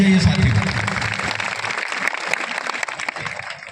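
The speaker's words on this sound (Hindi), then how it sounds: "एक बार जोरदार इनके लिए तालियां बजाइए साथियों।" A crowd gathered for a World Tribal Day event claps together in a burst of applause, loud at first and gradually thinning, with some voices mixed in.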